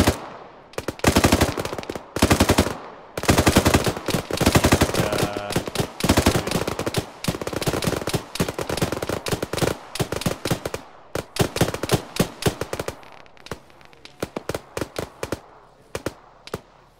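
Dense bursts of automatic gunfire in an Arma military shooter game, with rapid machine-gun volleys and single shots crackling loud and close in irregular bursts with brief pauses, no talk.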